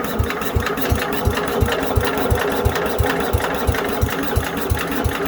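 A Briggs & Stratton engine on an Allis Chalmers B-110 garden tractor, back running after its points were cleaned, idles with an even, steady chug, each firing stroke a regular low thump, loud and close.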